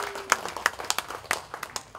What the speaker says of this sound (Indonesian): Tepuk tangan untuk Aimasi.